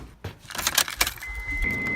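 Car keys jangle loudly up close, followed by the thumps and rustle of someone getting into a car, with a faint steady tone lingering in the background.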